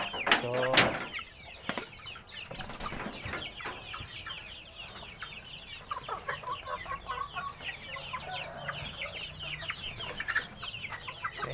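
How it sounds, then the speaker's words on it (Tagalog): Young chickens waiting to be dewormed cluck and chirp continuously at close range, with a burst of wing flapping at the start and someone talking over the flock. "Yan yung mga manok na pupurgay natin yun."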